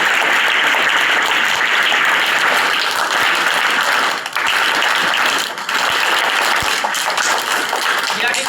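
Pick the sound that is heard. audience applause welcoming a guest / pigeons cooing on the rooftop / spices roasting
audience applause welcoming a guest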